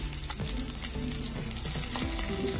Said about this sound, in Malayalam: അതിനുശേഷം നമ്മൾ അരിഞ്ഞു വെച്ചിരിക്കുന്ന ഇഞ്ചി അതിലേക്ക് ആഡ് ചെയ്യുക.